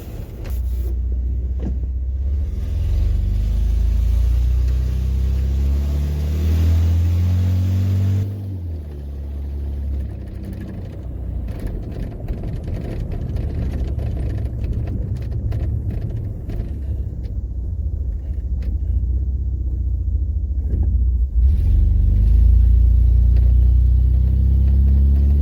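A 1995 Ford F-150 engine running on open headers gives a loud, steady low rumble that fills the whole stretch, with slight swells in level and no talking.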